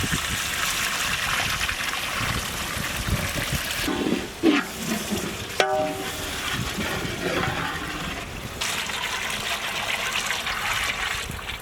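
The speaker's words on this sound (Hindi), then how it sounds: "हम लोग इसमें टैमरिंड जूस भी डालेंगे।" Tamarind juice poured into a traditional king fish curry while cooking, a steady rushing, splashing liquid sound lasting about eleven seconds with a brief knock midway and no voices.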